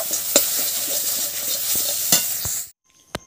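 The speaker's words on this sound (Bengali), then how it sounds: "মাছটাও ভেজে নিলাম। এখন মাছটা কষছি, সরষে দিয়ে হবে, সরষে টমেটো দিয়ে।" Fried fish being stirred and sautéed in a pan with mustard and tomato gives a close, continuous sizzle broken by a few sharp utensil knocks, then the frying cuts out into near silence with one last clink.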